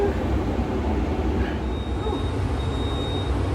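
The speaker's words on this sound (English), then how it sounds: "Train is departing." An airport shuttle train departs and rumbles steadily along, a low continuous roar with a faint high whine, loud and close throughout.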